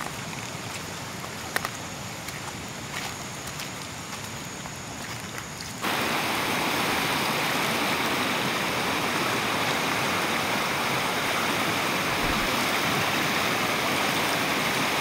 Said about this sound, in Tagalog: tumatawid ako sa lagaslas